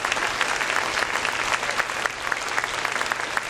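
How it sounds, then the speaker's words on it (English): A seated audience at a school holiday concert claps steadily for several seconds, a fairly soft, even patter of many hands with no voices standing out. "So let's clap for all those people."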